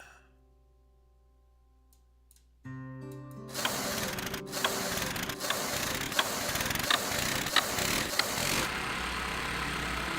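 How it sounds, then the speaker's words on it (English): In a video game, a generator's starter rope is pulled; quiet mechanical clicks give way to a sudden rise, then a rattling, clattering engine churn with ticking hits that runs on before dropping off near the end. "grip the starter rope. Now try to start it"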